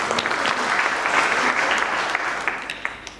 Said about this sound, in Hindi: उनका जोरदार तालियों स्वागत